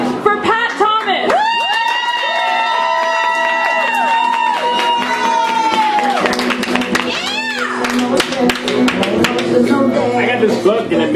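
A poetry slam audience claps, cheers and lets out long, sliding whoops for a poet, loud and sustained in a lively room.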